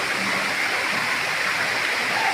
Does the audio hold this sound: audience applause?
no